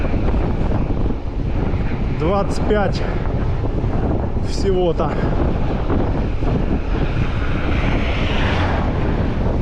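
Strong headwind buffets the microphone in a loud, continuous roar along the coast near Feodosia, Crimea, on an October ride, with a voice speaking briefly over it.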